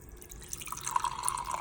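Triple chocolate stout pours from a nitrogen beer tap on a homebrew kegerator: a faint, steady liquid stream with soft dripping and splashing that grows slightly busier as the glass fills.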